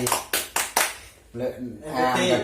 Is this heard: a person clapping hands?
yes